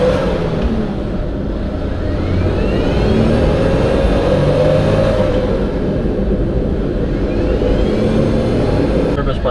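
A van engine with a failing, blown turbocharger runs loud and close in a steady drone, with a rising and falling whine sweeping over it and a voice talking underneath.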